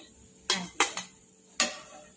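Crisp fried Gujarati cutlets being lifted from the oil and set onto a plate: four sharp metallic clinks and scrapes of a utensil against the pan and plate, spaced irregularly over a quiet background, close and fairly loud, with no talk.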